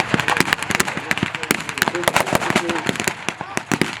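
Small arms fire at a WW2 re-enactment in Yorkshire: a dense, rapid run of sharp, loud cracks and pops that goes on steadily throughout.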